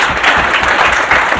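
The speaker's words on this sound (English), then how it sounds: "Maybe that deserves a round of applause." An audience at a business impact report event gives a loud, close round of applause, a dense continuous clatter of many hands.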